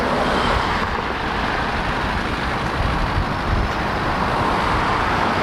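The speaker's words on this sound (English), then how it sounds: "There's a lot of traffic." Road traffic on Bragg Boulevard in North Carolina gives a continuous, fairly loud roadside rumble and rush of passing vehicles.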